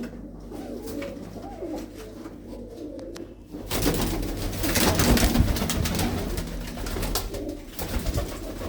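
Blue-footed pigeons coo in soft, repeated throaty calls amid a busy, noisy backdrop that grows louder midway, with the birds fairly close.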